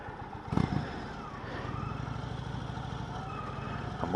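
A 2020 Indian Chieftain Elite motorcycle engine rumbling at low speed, steady and close with a deep pulsing tone and a brief clatter near the start.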